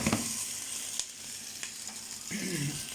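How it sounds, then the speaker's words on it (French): Pork sautéing and caramelizing in a pan gives a soft, continuous sizzle with a few faint clicks of stirring, then a brief louder burst of frying near the end, close by with no voices. "Là, j'ai ma viande qui cuit."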